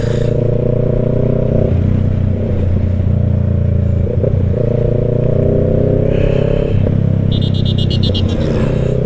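Cars and motorcycles pass in steady road traffic near the Pililla windmills in Rizal, engines droning loudly and close with brief revving surges and a rattling clatter near the end.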